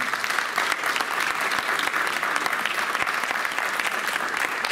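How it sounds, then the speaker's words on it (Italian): A crowd at a community gathering applauds continuously, a thick, even burst of many hands clapping close and loud throughout with no pause. "E qui lo facciamo doppio l'applauso,"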